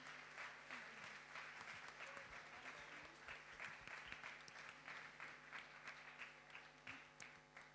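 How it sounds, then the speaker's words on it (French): Audience applause after a conference debate on influence and the climate emergency, a sustained, even spread of clapping from a crowd at moderate distance, lasting the whole stretch over a low room hum. "Vous pouvez encore les applaudir si vous avez encore un peu d'énergie."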